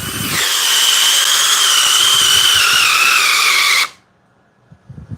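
A DeWalt drill runs at speed 3, giving a loud, steady high whine for nearly four seconds that cuts off abruptly, followed by faint scattered clunks.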